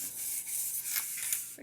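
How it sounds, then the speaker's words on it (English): Soft, scratchy rubbing from lightly sanding a model railway road surface, a faint steady hiss in short strokes. "Now just a little bit of sanding and it looks old already."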